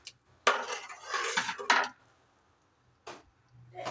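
Ponni rice stirred through a pot of vegetable biryani, a few loud scraping, clanking strokes of a spoon against the pot with pauses between them.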